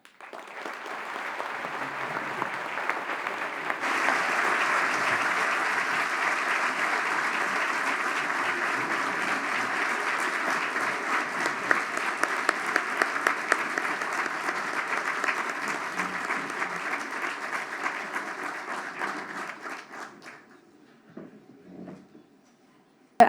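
Sustained audience applause at a formal judicial gathering after a presidential speech, a dense steady clapping of a large crowd for about twenty seconds before it thins to a few last claps.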